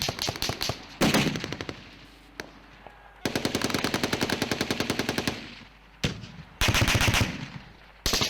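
Automatic gunfire from Marines in combat in the green zone, rapid bursts of machine-gun fire alternating with single shots and short pauses, sharp and loud with echoing reports, no voices.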